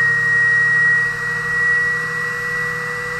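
A DualPole mini motor energizer with updated coils spins at speed, giving a loud, steady high-pitched whine with a low hum beneath and a slight swell in level partway through.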